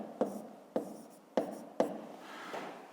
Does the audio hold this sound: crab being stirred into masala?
no